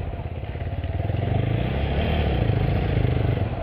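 A motorcycle with a clutch problem runs close by, a steady low engine chug with a rattling, pulsing rhythm as it rolls along, and no voices over it.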